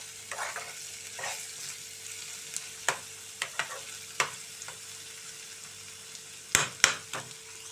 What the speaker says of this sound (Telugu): పెద్ద ఫ్లేమ్ మీదే వేయించుకోవాలండి.